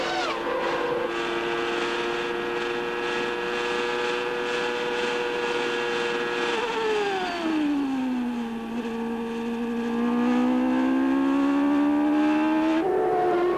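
McLaren Peugeot-era Formula 1 car flat out in fifth gear down the straight at the Spanish Grand Prix in Barcelona, a loud sustained high-revving engine whine that dips in pitch then climbs again, with a commentator talking over it.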